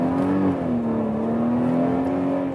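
An SUV engine pulls hard under acceleration on a test drive, a steady droning tone that climbs slightly then holds, loud and continuous inside the cabin with no talking.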